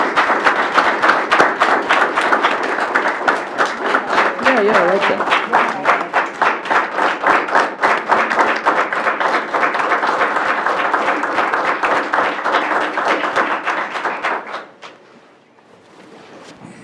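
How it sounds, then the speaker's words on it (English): Steady, full audience applause for Board Member Gibbs at a board meeting, loud and continuous for about fourteen seconds before stopping abruptly, with a brief spoken remark heard near the end. "Let's give her a round of applause."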